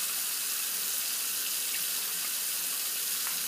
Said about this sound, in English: I'll just go ahead and clean the soap off my face here.